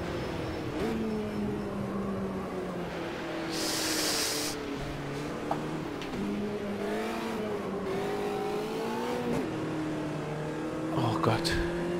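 Light race car of about 120 hp in the Automobilista 2 racing game, its engine tone rising and falling steadily through gear changes across the lap, with a brief burst of noise midway and someone talking over it.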